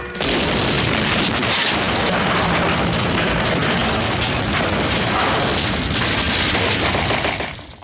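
Rocket launcher explosion from the 1989 action film Laser Mission: a continuous loud roar of blasts and rumbling booms for several seconds, dense and heavy throughout, with no voices.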